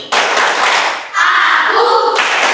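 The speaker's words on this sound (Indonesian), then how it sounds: "Tepuk konsentrasi." Rhythmic group clapping in a classroom chant, broadband claps filling most of the stretch with a short pause midway, mixed with children's voices joining in.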